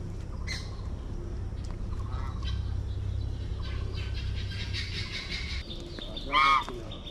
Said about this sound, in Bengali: রাজহাঁস আর চীনা হাঁস।